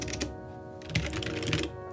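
Rapid, steady keystrokes on a freshly assembled first-build mechanical keyboard, close and clear, with brief clusters of clacks and short pauses and no voices.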